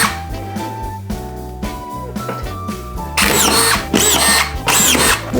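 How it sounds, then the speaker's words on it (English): A power drill with magnetic bits drives screws into drywall during a kitchen renovation, giving several short whirring bursts that grow louder and harsher in the last few seconds, close up with no voices. "Magnetic drill bits."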